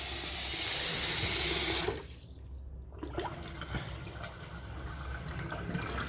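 Water runs from a tap into a sink with a newly replaced drain assembly, a steady rush for two seconds, then a lower swirling gurgle as it drains freely, close and alone.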